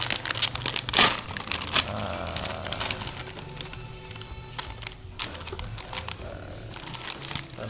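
A plastic package of Taro Net potato waffle snacks is torn open and crinkled by hand, producing loud crackling rustles near the start and intermittent crinkles after, close up.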